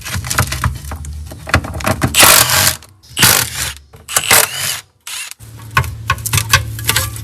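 A wrench loosening half-inch bolts to take a bracket off a Pontiac engine, heard as close, irregular metallic clicks, scrapes and clunks in short bursts separated by brief pauses.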